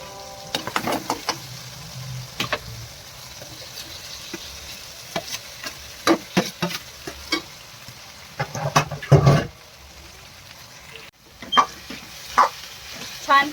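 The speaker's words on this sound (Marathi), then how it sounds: "आणि आता मी छान टोमॅटोला शिजू देईन" Tomatoes and potatoes sizzle in a pan while a spoon stirs them, with scraping strokes and clatters against the pan over a steady frying hiss, close up and with no talk.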